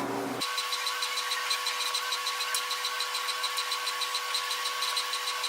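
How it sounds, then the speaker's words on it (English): An HP Tango printer printing a photo starts up and runs with a steady mechanical hum, whining tone and rapid even clicking, close and constant, with no voices. "it's going to print that photo pretty close to near"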